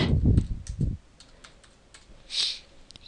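Keys tapped on a computer keyboard, with a dense burst of clicks at the start and then scattered lighter taps, close and fairly quiet, with no talking.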